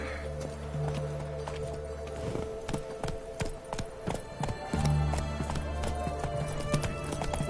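Horse hooves clip-clopping at a gallop in the Witcher 3 video game, a steady rhythmic beat under a music bed, with faint voices now and then.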